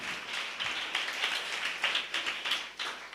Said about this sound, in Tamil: நல்ல கைத்தட்டி, தலைக்கு மேல கைத்தட்டி